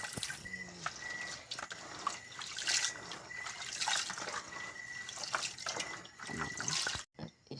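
Tap water runs and splashes as sweet potatoes are washed by hand in a sink, a continuous close trickle with drips and handling clatter that cuts out abruptly near the end.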